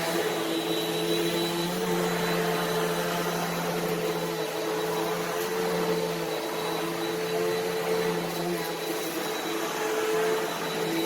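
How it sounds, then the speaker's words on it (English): An Allergy S20EZM upright vacuum cleaner with HEPA filter runs steadily on a rug at close range with a constant motor drone and whine, holding an even level throughout. "You can hear it picking up stuff that the other vacuum didn't pick up."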